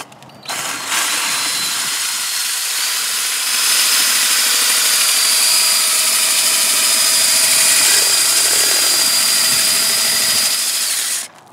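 A power tool grinds steadily against the edge of a glass bottle, a loud continuous high whine with a rough abrasive hiss that holds for about ten seconds before cutting off.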